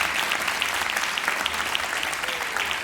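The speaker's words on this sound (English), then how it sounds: "a very big applause for the Mom" A London audience at a Ramadan religious recitation competition semifinal gives a brief, steady round of applause, a dense continuous patter of many hands at moderate loudness with no voices.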